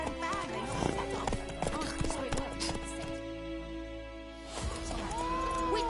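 Horse hooves clip-clop steadily on a road in The Witcher 3, with a whinny rising near the end, set against game music and a voice talking over the ride.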